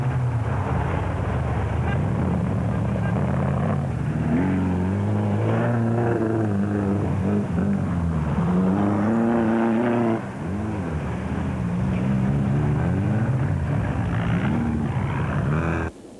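Race cars in an endurance race, including a Corvette-engined car and a Toyota, roaring past with engine pitch rising and falling as they pass, loud and continuous throughout.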